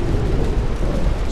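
Torpedoes striking a battleship in the naval game Ultimate Admiral: Dreadnoughts, a loud, sustained low rumbling roar of explosions with no distinct breaks.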